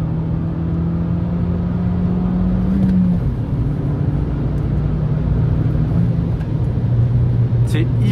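A 2013 Peugeot 208 GTi's turbocharged engine pulls steadily under acceleration toward 3000 rpm, a loud continuous drone with a shifting pitch as the turbo comes in, recorded from inside the moving car.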